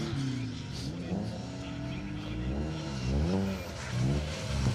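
A rally car accelerating hard along an asphalt stage at the Tour of Epynt, its engine note climbing through several gear changes with rising and falling harmonic sweeps, loud and close throughout.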